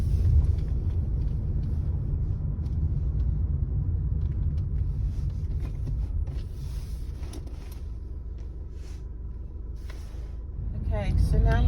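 A heavy, steady low rumble of bus and road traffic near the bus station at Stratford, by the Westfield Olympic complex, with a brief creak near the end and faint voices mixed in.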